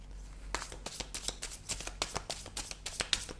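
Oracle cards are shuffled close up in a steady run of crisp riffling flicks and soft slaps, with no talking.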